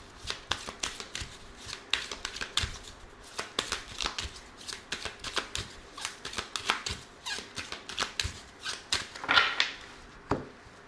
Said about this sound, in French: on va utiliser l'oracle Aphrodite et on va prendre aussi des cartes avec le tarot.